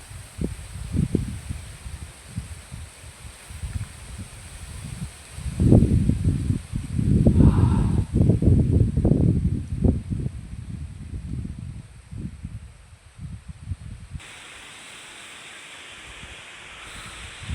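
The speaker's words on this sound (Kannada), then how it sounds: "ಭಯಂಕರ ಗಾಳಿ ಬೀಸ್ತಾ ಉಂಟು" Strong gusts of wind roar and rustle through foliage, rising and falling in waves, loudest in the middle, then easing to a softer hiss.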